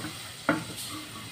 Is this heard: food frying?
yes